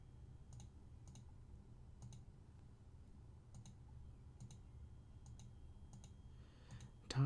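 Sparse keystrokes on a computer keyboard while entering a math series, isolated clicks spaced about half a second apart over a low steady room hum, with a louder clatter at the very end.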